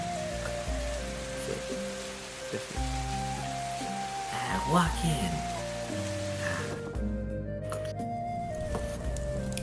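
A steady rain ambience runs beneath low sustained background music during a tabletop role-playing session, soft and continuous, with a brief spoken voice over it.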